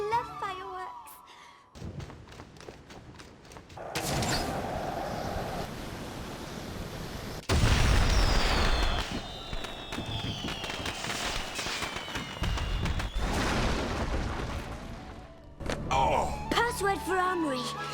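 In the Heavenly Sword video game, explosions tear through a bunker stocked with fireworks and explosives: loud crackling blasts and a sustained rushing roar arrive in waves. Voices and other game sounds are mixed in around them.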